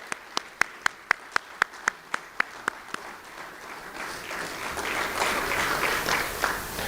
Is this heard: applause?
yes